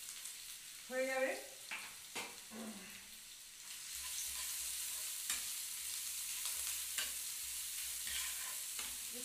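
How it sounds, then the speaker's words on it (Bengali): Grated coconut fries in ghee with a soft, steady sizzle that rises after a few seconds. It starts with brief clinks and a short rattle, and a few spoon taps come through the quiet hiss. "নারকেলটাকেই আমি কুড়িয়ে একটু ঘিয়ের মধ্যে লাল করে ভেজে নিচ্ছি"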